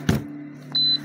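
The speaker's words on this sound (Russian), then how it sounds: "Вот и снова пищит. Свистит вот так." A Ryaba 100 electronic incubator gives a single short, high-pitched electronic beep, clear and close, over a faint steady hum.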